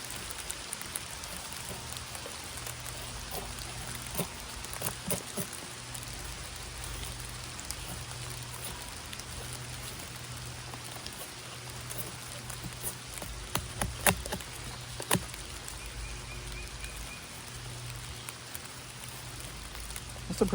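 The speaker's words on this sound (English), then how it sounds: "It's been raining. It's starting to rain again." Rain falling outdoors in the wilderness makes a steady soft hiss, with scattered drop taps and a few sharper pops across the whole stretch, and no talking.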